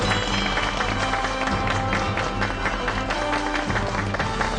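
A studio audience applauding to welcome a guest on a Korean TV talk show, a dense, continuous wash of clapping at steady volume with a faint musical bed underneath.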